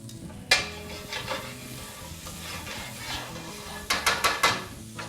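Garlic and ginger sizzle steadily in a pan with a soft, continuous frying hiss, broken by a sharp clank near the start and a cluster of clattering utensil scrapes toward the end, alone with no voices.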